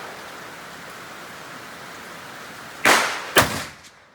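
Two sharp, loud gunshots from a .45-70 rifle at an outdoor range, the second about half a second after the first, each followed by a brief fading echo over steady background noise.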